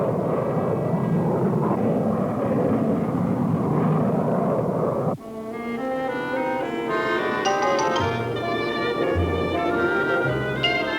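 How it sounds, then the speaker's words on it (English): Cartoon spacecraft fly toward a race start. A broad roaring engine rush gives way abruptly to whooshing, tonal sci-fi flight sounds with wavering whines, loud and close. "the greatest variety of spacecraft ever assembled are heading for the evening star"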